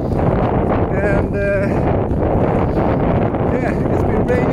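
Wind buffets the microphone while hiking on a 10-kilometer walk home from work in rain, a loud continuous roar with gusty swells throughout.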